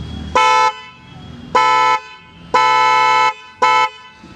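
A newly installed Bosch Symphony car horn blares in four loud, rich multi-tone blasts of uneven length, the third held longest, with short gaps of silence between them.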